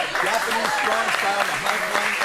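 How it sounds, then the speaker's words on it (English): Crowd applause at a wrestling show, sustained clapping from the audience under a commentator's voice speaking throughout. "Listen to this applause."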